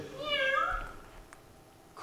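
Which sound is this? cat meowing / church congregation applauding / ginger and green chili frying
cat meowing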